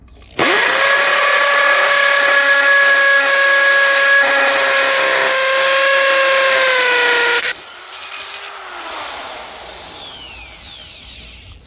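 A Chicago Electric 1/2 inch hammer drill bores with a 5/16 bit, a loud steady high whine for about seven seconds that cuts off abruptly, then the motor winds down more quietly to the end.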